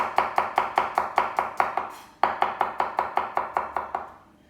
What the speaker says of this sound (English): with the garlic, we're just going to slice nice and thinly